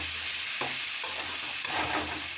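A mushroom mixture for pakoda is stirred in a pan, giving a dense, loud, continuous hiss with a few soft scraping strokes rising over it.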